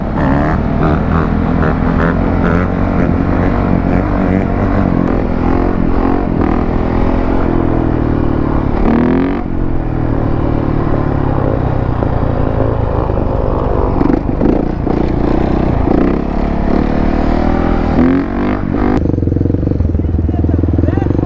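Engine of a 450 RX trail dirt bike running steadily, a continuous loud rumble with slight revving throughout, with people talking over it.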